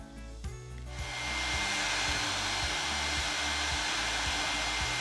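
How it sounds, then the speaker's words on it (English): A handheld blow dryer switches on and runs as a steady loud whoosh for several seconds, used to warm a stuck plastic bucket, heard up close and alone. "The third one's just the good old blow dryer."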